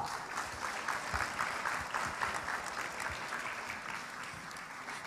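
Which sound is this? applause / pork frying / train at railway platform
applause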